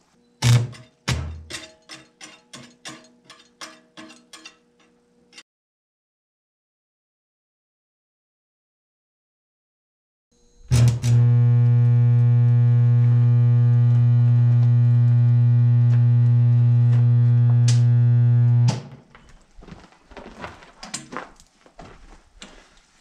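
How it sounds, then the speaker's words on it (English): Stick welding with cheap welding rods gives a loud, steady buzzing arc hum lasting about eight seconds. It comes after a few scattered clicks and knocks and a quiet pause. "I think I'm all set here, so I'll get welding."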